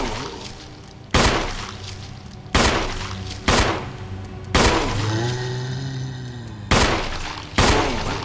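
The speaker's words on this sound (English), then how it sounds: "I'm gonna shoot you from a safe distance" Gunshots in the Resident Evil HD video game, six loud sharp blasts spaced about a second apart with decaying tails, over a low game ambience and a drawn-out rumbling effect midway.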